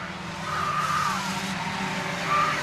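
Race cars roaring around a racetrack at moderate distance, a steady engine drone with brief tire squeals rising over it twice, no voices.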